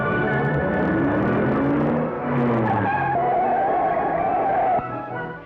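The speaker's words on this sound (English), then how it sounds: "The deadly traffic comes on and on." Road traffic streams past nearby, with engines rising and falling, and partway through a car's tyres skid with a loud sustained squeal that fades out at the end.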